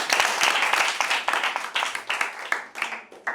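A school debate audience claps for a student speaker, a dense run of sharp overlapping hand claps lasting about three seconds and tapering off near the end, fairly loud and close, with no talking over it.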